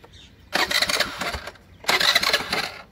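A Honda Activa scooter being cranked and failing to start, two loud bursts of starter and engine noise each lasting about a second, separated by a short pause, close up.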